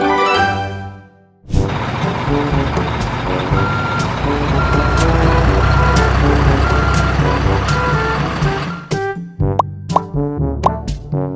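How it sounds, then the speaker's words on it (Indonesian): A construction mixer truck backs up: its loud, evenly spaced reversing beeper sounds over a rumbling diesel engine, then the engine fades and the beeps carry on alone at the end. "Mixer truk atau truk molen."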